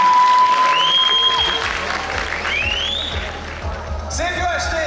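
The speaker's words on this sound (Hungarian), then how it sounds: "Szeretnék neki egy nagy tapsot kérni ide előre is." A crowd applauds loudly and steadily at a village stage show, with music tones and a voice rising over the clapping.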